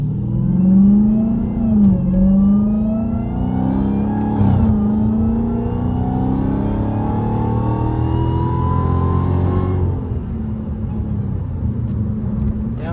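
Supercharged Dodge Hellcat with the mufflers removed, its engine revving hard and close with a rising supercharger whine, sustained loud throttle pulls and a brief drop near the end.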